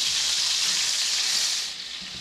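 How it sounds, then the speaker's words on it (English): Deer shoulder and neck meat sears in hot bacon grease, giving a steady, close, loud sizzle that runs unbroken and eases slightly near the end, with no voices. "we got a good sear on it with the bacon grease"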